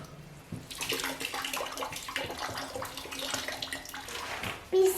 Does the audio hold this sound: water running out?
yes